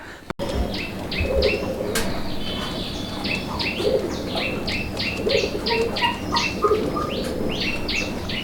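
Repeated soft cooing from a male pigeon, steady and close, with brief chirps and a wing flutter near the start.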